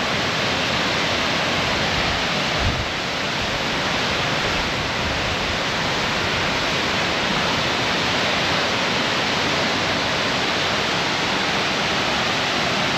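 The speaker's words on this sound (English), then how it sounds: "Narada Falls. All of her glory." Narada Falls on Mount Rainier roars as a dense, steady wash of white water, loud and close, holding unbroken for the whole stretch with no voices.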